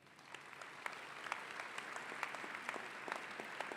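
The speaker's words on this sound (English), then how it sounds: "Please, let's give them a huge round of applause." Commencement audience applauding the MPA graduates, a steady crackle of many hands clapping together at moderate distance, continuous and even throughout this short burst.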